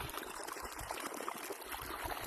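Water pouring steadily from a running borewell pump on a farm, a continuous broadband rush with no talking.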